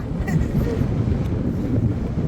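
Wind blowing hard into a microphone on a steep cliff top at Phu Hin Dang near the Thai–Lao border, a continuous low rumbling buffet with gusts and no talk.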